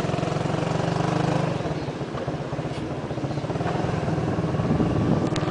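A motorcycle engine, ridden by a first-time learner, buzzes steadily and then builds as it accelerates, a rough, continuous mid-pitched drone heard close and fairly loud.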